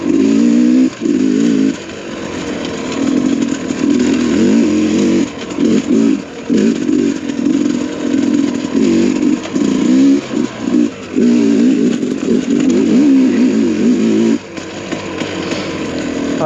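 A Sherco dirt bike rides high desert trails, its loud buzzing engine revving and surging in uneven bursts with brief chops and throttle-offs, heard close and continuously without talk.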